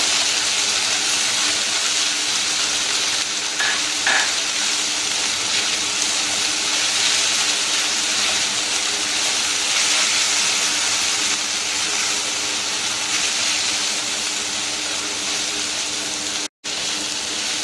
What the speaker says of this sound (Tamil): இஞ்சி பூண்டு பேஸ்ட் சேர்த்துட்டு பச்சை வாசனை போற அளவுக்கு நல்லா வதக்கிக்கோங்க